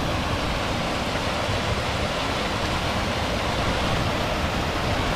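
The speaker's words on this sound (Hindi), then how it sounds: "पानी गिर रहा है भैया, कैनाल का है, वहाँ से आ रहा होगा ऊपर से पहाड़ों से।" Water pours down a stream from the mountains along a canal, a steady, even rushing roar with no breaks, heard alone and fairly close.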